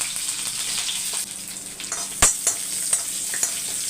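Garlic, fennel seeds and curry leaves sauté in hot oil for a beetroot stir-fry, giving a steady sizzle with a few sharp spatula scrapes and taps close by.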